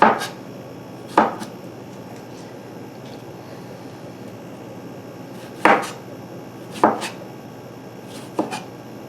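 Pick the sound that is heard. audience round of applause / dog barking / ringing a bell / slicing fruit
slicing fruit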